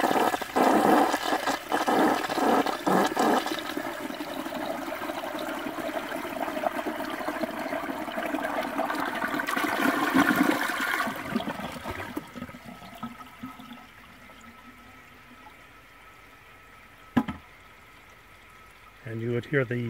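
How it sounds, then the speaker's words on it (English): A 1970 American Standard Cadet toilet with full tank and bowl flushes with a loud rushing swirl that gurgles down after about ten seconds, then tapers into quieter refill trickling, with a brief clunk near the end and a voice talking over it. "The tank and bowl are full, and here is a normal flush."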